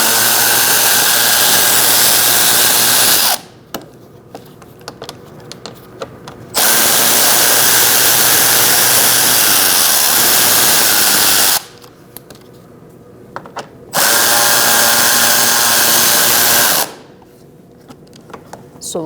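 A power tool with a 7mm socket spins out bolts underneath a 2016-2019 Chevrolet Cruze 1.4L: three loud, close whirring runs of several seconds each, separated by quieter pauses with small clicks and handling noises.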